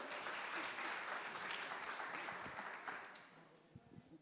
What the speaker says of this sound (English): let's give a round of applause again for her.